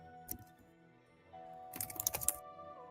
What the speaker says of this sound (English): That's somebody typing. Sounds like typing.